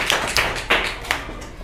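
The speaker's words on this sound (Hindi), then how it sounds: "इनके लिए तालियां बजाइए" A school classroom audience claps for a student reading English aloud. A few loose, uneven hand claps land in under two seconds, sounding sparse and close, with no talk over them.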